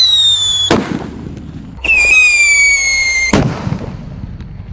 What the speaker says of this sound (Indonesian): Lanjut di sini ada Jumbo Whistling Thunder guys. Kita nyalakan. Kita dengarkan suaranya.